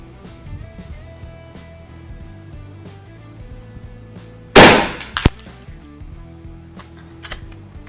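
A single sharp shot from an FX Dreamline Power Pup 5.5mm air rifle cracks out mid-clip amid quiet outdoor background, followed by a short metallic click.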